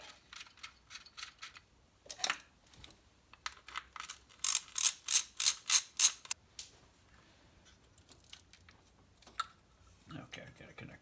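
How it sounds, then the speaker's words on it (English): Ratchet tightening 10mm valve cover screws on a Nissan Maxima engine: a close run of rapid clicking pawl strokes in a steady series, preceded by scattered softer clicks and handling noise, with a voice speaking. "We'll just put our 10mm screws back in"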